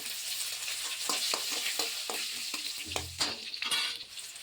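Ginger, garlic and curry leaves fry in a pan with a bright steady sizzle, broken by a series of rhythmic stirring scrapes and taps, close and clear with no talk.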